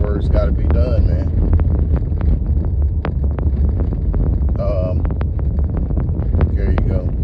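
A moving car's cabin fills with loud, steady wind buffeting and low road rumble throughout, while someone talks over the roar.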